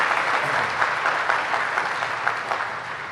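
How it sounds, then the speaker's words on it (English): An audience at a spring honors ceremony gives a continuous round of applause, a thick and even spread of clapping with no voices rising above it. "So I'd like to give you guys a round of applause."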